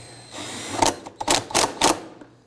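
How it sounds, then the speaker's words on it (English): Bolt on a fuel tank strap of a 2005-2009 Subaru Legacy 2.5L H4 being driven in, about four sharp close ratcheting bursts in quick succession after a low mechanical hum, no voices. "Let's go ahead and install our bolt up back in the back."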